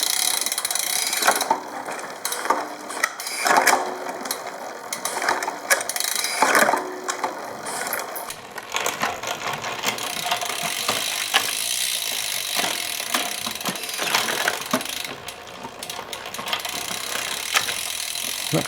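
A SRAM Rival bicycle chain and derailleur running through the gears, with a busy close-up ratcheting whir of the freehub and chain, clicking shifts scattered through, steady and continuous with no speech.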